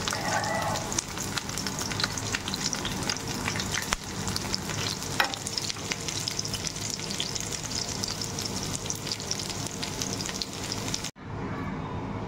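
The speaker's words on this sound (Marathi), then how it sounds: "2 ते 3 मिनिटं मीडियम फ्लेमवर आपण हे फ्लॉवर आता फ्राय केलेले आहे।" Cauliflower pieces fry in oil over a medium flame, giving a steady dense sizzle with occasional stirring clatter, cut off abruptly near the end.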